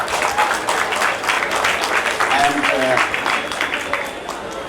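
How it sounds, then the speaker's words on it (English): Audience applause at a college press conference, a dense, steady round of clapping with voices talking over it partway through. "all of us must clap for this"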